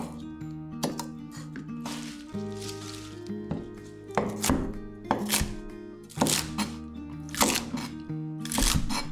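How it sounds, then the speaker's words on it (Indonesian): A knife chops water spinach on a cutting board, separating leaves from stalks: irregular sharp thunks in bursts, fairly close, with quieter handling sounds between cuts. "akan potong dan asingkan bahagian daun dan bahagian batang"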